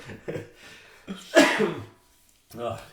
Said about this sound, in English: God, my cough.